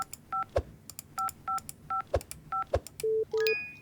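A phone number keyed in the Office Simulator game: a quick run of short dialing tones beeps in an even rhythm, with soft clicks between them and two longer tones at the end.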